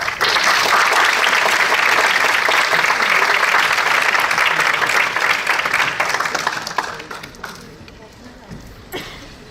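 An audience applauds to welcome a history professor onto a lecture stage, loud sustained clapping from a full room that holds steady for several seconds before thinning out and fading.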